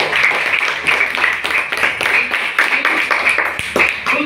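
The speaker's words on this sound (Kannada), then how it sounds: "ಚಪ್ಪಾಳೆ ಹಾಕಿ" Students clap together in a classroom volleyball lesson, a steady, fairly loud patter of many hands lasting several seconds, with a few voices mixed in.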